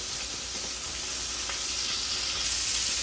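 Chicken adobo steadily sizzling in a pan, a continuous soft frying hiss at low volume with no talking.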